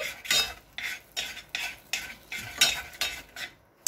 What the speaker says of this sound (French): Donc, on fait une pâte qu'on mélange bien ensemble.